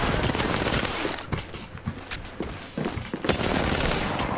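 Gunfire in the shooter game Apex Legends, a dense rapid fusillade of overlapping close shots with brief pauses, loud and continuous throughout, with no talking.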